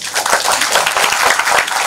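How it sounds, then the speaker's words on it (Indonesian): Audience applause at an evening discussion gathering, a steady dense wash of many hands clapping at close range throughout, with no gaps. "Tepuk tangan dong"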